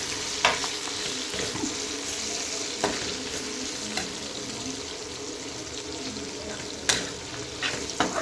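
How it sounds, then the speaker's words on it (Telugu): Flat beans (chikkudukaya) frying in a covered pan crackle and sizzle continuously while a spoon stirs them, adding a few sharp clicks and scrapes against the pan. "మధ్యలో ఇలా కలుపుతూ ఉండాలి."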